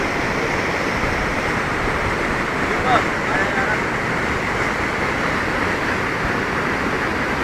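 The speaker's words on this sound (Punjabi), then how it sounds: "ਪਾਣੀ ਦਾ ਪੂਰਾ ਨਦੀ ਦਾ ਪਾਣੀ ਉਹਦੇ ਵਿੱਚ ਦੀ ਜਾ ਰਿਹਾ ਹੈ" River water rushing steadily beneath a small wooden footbridge on the route to Manikaran Sahib, a constant broadband roar filling the whole clip without pause, fairly loud and close.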